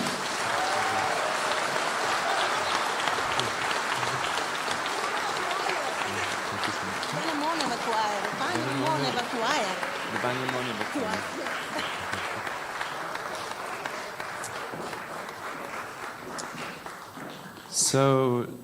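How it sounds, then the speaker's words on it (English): A large audience applauds the Cosmic Voices Choir at a live Save Soil event in Sofia, sustained dense clapping with voices mixed in, fading slightly before a brief louder burst at the end. "A huge round of applause, everyone, for Cosmic Voices Choir"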